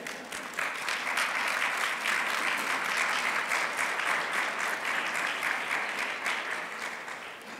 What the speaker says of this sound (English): Please applaud as they come forth